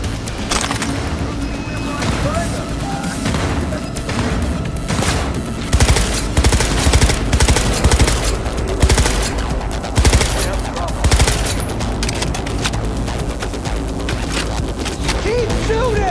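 Sustained automatic gunfire in a Cyberpunk 2077 firefight, dense rattling bursts that swell and pulse over a rumbling game soundscape, loud and continuous throughout.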